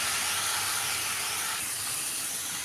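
Eggplant sautés in hot oil for a tamarind curry, producing a continuous dense hiss and sizzle, loud and close, steady throughout without talk.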